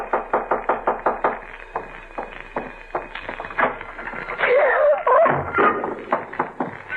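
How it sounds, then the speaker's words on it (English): Repeated knocking on a door, a fast run of sharp raps followed by further scattered knocks, fairly loud and close, amid a tense domestic drama with a brief whooshing, shrill sound in the middle. "There's someone at the door."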